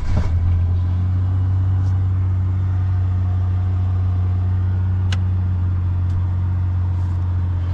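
A Ford Model A towing on the road at about 50 to 60 mph, a loud, steady low engine drone with road roar throughout, and a few faint ticks.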